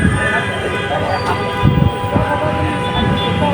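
Alexandria's Raml double-decker tram on line 1 runs through the city streets with a steady, close mechanical rumble and rattle, with faint voices in the background.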